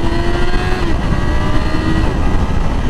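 A 2020 Yamaha R6 sport motorcycle engine while riding, a loud continuous drone with a rising rev tone in the first second, mixed with heavy wind rush.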